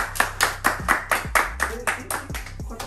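Hand claps for Peppa Pig at a gift-giving game, about a dozen sharp, fairly even claps close by, with some low murmuring underneath.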